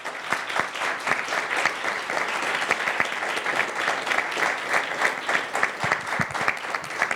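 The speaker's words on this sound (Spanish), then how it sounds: "un aplauso, por favor." An audience at an investment arbitration event claps in a sustained round, a dense steady patter of many hands with individual claps standing out, moderately loud and lasting throughout.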